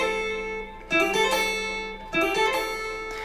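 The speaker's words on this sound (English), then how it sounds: "it's gonna be a hammer-on with a single trill" Lead lines on an electric guitar with a hammer-on and a single trill, two bright phrases each opening with a sharp attack, then quick alternating notes that ring and fade, played alone.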